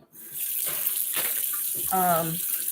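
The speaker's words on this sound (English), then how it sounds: "I have some kale that I'm going to rinse in this colander" Tap water running steadily into a sink while kale is rinsed in a colander, close and continuous, with a voice speaking briefly over the flow near the end.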